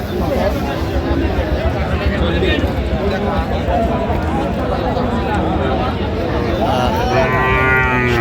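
Dairy cows bellow in long, drawn-out moos at the traditional Aftabganj cattle market in Dinajpur, Bangladesh, several calls rising over a constant din of crowd chatter and people talking nearby.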